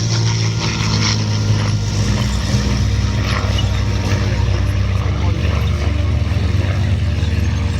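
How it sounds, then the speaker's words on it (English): A historic propeller-driven warbird holds a continuous low, droning engine note that stays loud and steady throughout, with no voices over it. "This iconic aircraft, flown today by Peter Teichmann, who is a committed warbird addict"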